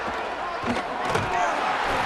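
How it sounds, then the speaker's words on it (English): A football stadium crowd roars and cheers continuously through a game broadcast, a dense, steady wash of many voices at moderate loudness with no single voice standing out. "This crowd ready to make its presence known."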